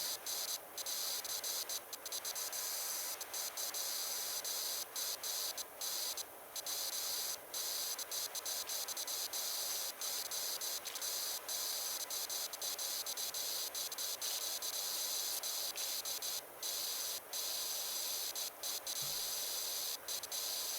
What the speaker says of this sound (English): Hopefully the high pressure spray isn't going to decimate any plants behind the trellising.